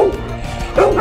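Dog barking up close, two loud, sharp barks at the start and end of a brief moment, with a whiny edge between them.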